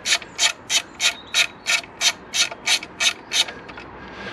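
A ratchet with a 13mm socket removing a nut from the alternator of a BMW N47 diesel engine, about ten loud, evenly spaced ratcheting strokes close up, then a stop.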